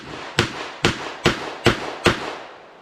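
Stainless Smith and Wesson Model 64 revolver at an outdoor range, firing 158 grain lead round nose .38 reloads: five sharp, evenly spaced shots with short decaying echoes, loud and close.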